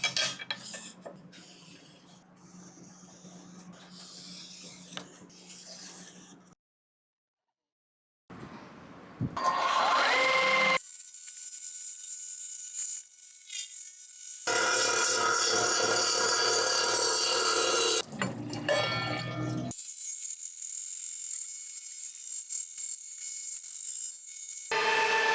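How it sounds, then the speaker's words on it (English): A glass piece has its sides trimmed down: grinding and scraping noises, then long loud stretches of a steady high whine with a grinding edge, close by, split by a short silence and a few abrupt breaks. "what I'm gonna do is trim down all the sides just a little bit to make it into a nice,"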